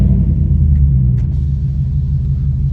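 2013 Ford F150 Raptor, first generation, with resonator and muffler deleted for straight pipes, a loud, deep, continuous exhaust rumble close by, steady and unbroken with no speech.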